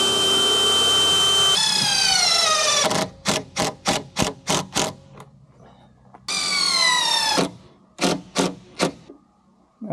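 A power driver sinks screws into wood while fitting a kitchen in an off-grid Alaskan cabin: two loud, close, sustained whirring runs alternate with rapid series of short sharp bursts, separated by near-quiet gaps.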